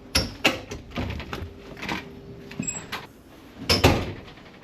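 Several clunks and sliding knocks from a sliding shower door being moved and shut, with a rattly thud near the end, fairly close, no talking.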